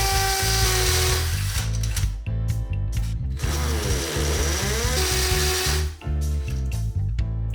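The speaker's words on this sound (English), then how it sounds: "now it's ready to be drilled with my masonry drill bit" A power drill fitted with a masonry bit bores holes into a wall to mount a cooker hood, whining loudly in several bursts with a gritty, ratcheting grind as the motor speeds up and pauses.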